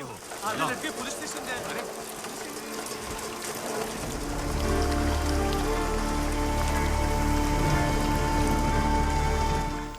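Heavy, torrential rain falls in a film scene, a dense, steady patter that swells louder after a few seconds and blends with other scene sounds.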